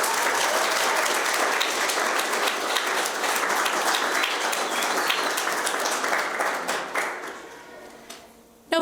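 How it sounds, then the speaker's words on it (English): An audience at a spring speech contest applauds a contestant, a sustained burst of many hands clapping that tapers off toward the end, followed by a brief sharp noise. "If we can give a round of applause for Samantha"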